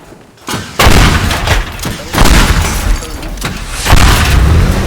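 Nitroglycerin blasts rip apart a Lamborghini in the video game Teardown, landing as a run of heavy, booming explosions about a second apart, each a loud broadband burst with rumbling decay, close and overlapping.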